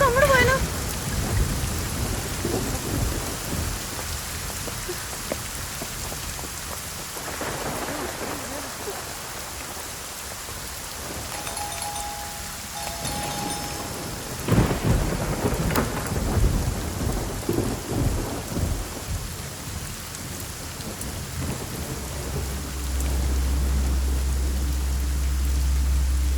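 Heavy rain pours steadily through a forest while thunder rolls and cracks at intervals, and a deep rumble swells toward the end.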